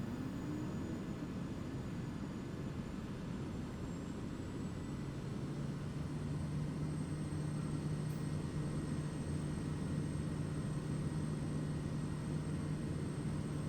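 A bush plane in Microsoft Flight Simulator drones steadily with a continuous propeller and engine hum, close and even throughout and heard alone, with a low tone that rises partway through.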